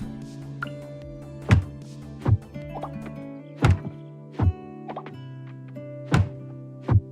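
Thumping hits on objects in the video game Coral Island: about six dull, low thuds at irregular intervals, each followed by brief tonal game chimes, over a steady layered musical drone with no talking.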